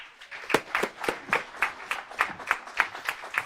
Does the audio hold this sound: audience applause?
yes